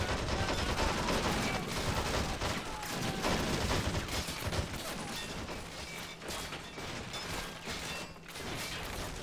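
Bursts of machine gun fire and scattered gunshots crackle through a battle in the Men of War Planetside 2 mod, dense and continuous at moderate loudness with distant explosions mixed in.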